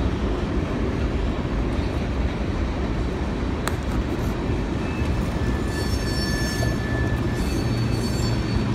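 A freight train passing close by, a loud continuous rumble and wheel clatter throughout with a brief high squeal, no voices.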